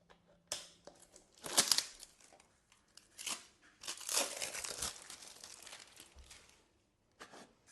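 A stainless steel lunch box container is pulled open, giving crinkly plastic-wrap rustling, scraping and a few sharp clicks and knocks, close and fairly quiet, in uneven bursts.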